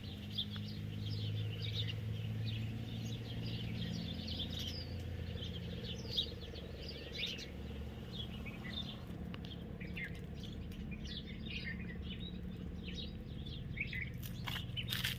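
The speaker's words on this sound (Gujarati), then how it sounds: "આ ઝાડવામાં ચકલાનો અવાજ કયો સુંદર મજાનો આવે છે સાંભળો તમે બધાય" Sparrows chirp in a tree in a village near Botad. Many quick, fairly faint tweets overlap continuously over a low steady background rumble.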